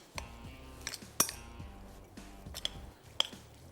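A spoon clinks and taps against a dish while mixing chicken cheese paratha stuffing, a few sharp metallic knocks scattered over a few seconds with soft background music.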